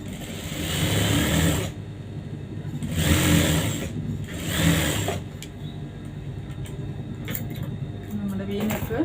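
A sewing machine stitches the neckline of a princess-cut blouse in three short whirring bursts, followed by a person talking over quieter handling sounds.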